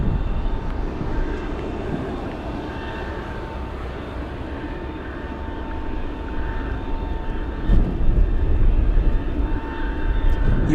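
Steady broadband roar of a cargo jet during pushback at Anchorage airport on a gusty day, engines idling with a low rumbling hum and faint tonal whine, continuous and moderately distant, swelling slightly near the end.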